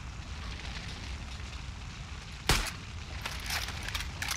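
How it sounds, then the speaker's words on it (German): Fire burning in the video game Far Cry 5: a steady, dense roar with crackle that holds throughout, broken by one sharp, louder burst about halfway through. "Natürlich stehe ich ja im Feuer."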